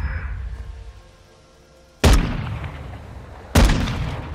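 Two loud gunshots in a video game, sharp and close, about a second and a half apart, each followed by a short decaying tail over a low background hum.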